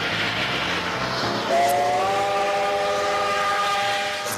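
Train passing with a steam whistle, a rumbling rail passage that is joined partway through by a loud sustained whistle that holds steady to the end.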